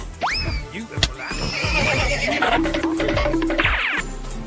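A horse whinnies loudly in Kingdom Come: Deliverance 2, a medieval game: a rising, strongly pitched neigh near the start, a second whinny around a second and a half in, then busy hoofbeats and game noise with no talk.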